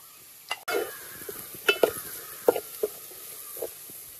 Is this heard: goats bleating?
no